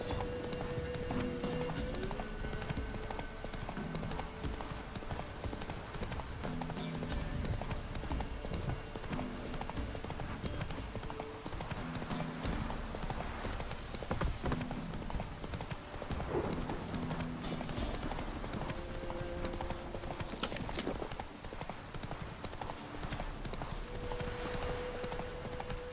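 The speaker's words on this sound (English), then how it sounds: "Can you run, horse," Horse galloping in The Witcher 3, a steady run of hoof clip-clops with occasional snorts, set against continuous game music and ambience for the whole stretch, with someone speaking briefly.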